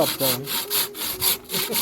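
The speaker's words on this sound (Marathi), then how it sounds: "करवतीने चिऱ्या कापताना मी पहिल्यांदाच बघत असाल" A hand saw cuts through a laterite stone block for a tulsi planter, a steady back-and-forth rasping in repeated strokes, close and loud, with no talk.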